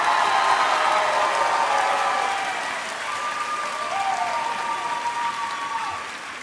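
Sustained crowd applause at a high school graduation ceremony for graduating students, dense and steady throughout, easing slightly in loudness partway through.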